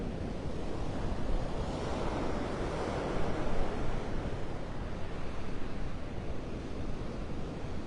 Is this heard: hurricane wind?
yes